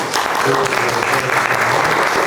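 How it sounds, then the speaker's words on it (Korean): A church congregation at a Korean worship service claps together in praise to God, dense and loud applause filling the room throughout the short span. "하나님께 영광의 박수를"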